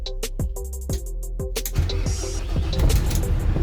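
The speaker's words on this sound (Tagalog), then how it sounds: "nakita niyo ba boss na start na yung ating sasakyan" A Volvo D13 truck engine cranks in several quick, rhythmic turns, then catches and settles into a loud, steady diesel idle, heard up close with no talking.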